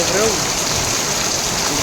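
Heavy rain falls in a loud, dense, unbroken hiss close by, with a faint voice briefly audible underneath.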